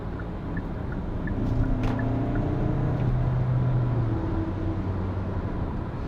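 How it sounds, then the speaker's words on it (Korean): A new Hyundai Santa Fe with a four-cylinder diesel engine accelerates hard from the cabin, giving a continuous low, rough drone whose pitch rises as revs climb, with no talk over it. "엔진 소리도 RPM을 높이니까 썩 듣기 좋은 소리는 아닙니다."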